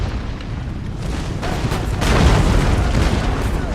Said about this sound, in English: Nice shot. Beautiful shot with the cannon.